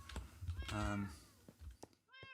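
Cats meowing in the Minecraft video game, a few short electronic mews near the start and end, with someone talking over them fairly close.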